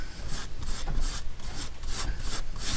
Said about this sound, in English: we're still just working on covering this up with this Rust Effect paste here